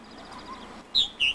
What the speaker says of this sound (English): A male chirbles in a compartment in hopes of persuading a female to nest with him.